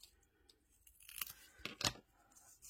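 Scissors snip through paper scraps in a few quiet, close cuts, the last two crisp and distinct, with no talking.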